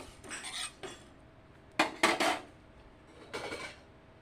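Lentils and spices stirred in a pan with a utensil, a few short scraping clinks in separate bursts, close and moderately loud with no talking.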